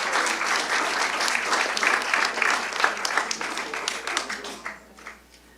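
An audience at an award ceremony applauds a winner, with dense, sustained clapping that thins out and fades near the end.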